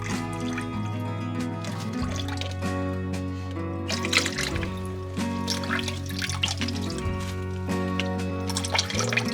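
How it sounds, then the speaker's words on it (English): Water pours and splashes steadily into a container, with a constant tonal hum running underneath. "As we're pouring the water into the bowl"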